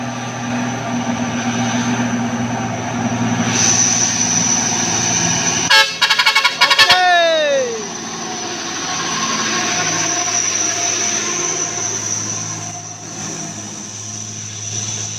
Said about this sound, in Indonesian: Ini dia truk Pertamina Industri yang kedua, sudah juga melaju bosku.